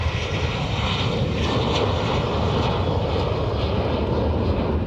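Airliner engines at Dublin Airport during takeoff and climb, a loud steady roar with broad rushing noise holding level throughout, no voices.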